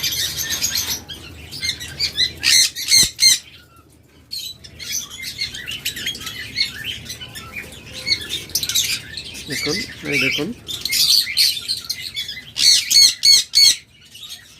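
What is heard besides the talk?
pet birds chirping, lovebirds and cockatiels for sale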